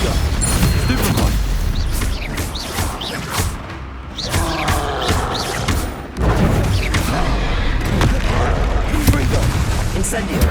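Spell blasts and explosions in Hogwarts Legacy boom and crackle in a dense, loud barrage of repeated impacts, with a voice shouting incantations over the combat.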